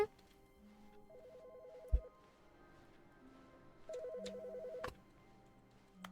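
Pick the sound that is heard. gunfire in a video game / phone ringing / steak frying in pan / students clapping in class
phone ringing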